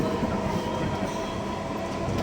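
A Dhaka metro rail train runs along with a steady rumbling roar and faint rhythmic wheel clatter, heard from inside the carriage, continuous and fairly loud.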